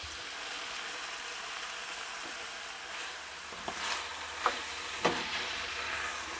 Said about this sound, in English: I'm going to put those pieces into the pan, and I'm going to fry it for another 5 minutes or so, stirring and turning the lamb almost continuously